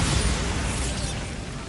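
Bombarda spell blast in Hogwarts Legacy, a loud broadband burst at the start that decays into a rumbling, crackling wash over under two seconds.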